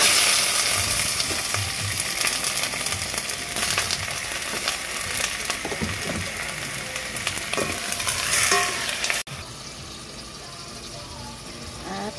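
Chicken breast fries in a hot pan for tenulang manok, giving a loud, steady sizzle with stirring scrapes throughout, then the sizzle drops suddenly near the end as talk continues.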